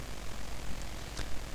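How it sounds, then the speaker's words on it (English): Aircraft engine roar from a jet taking off in the Urban Strike video game, a steady low rumble with a brief higher whoosh near the end, moderately quiet and without talk. "You get one jet which is already taking off and will escape you if at all possible"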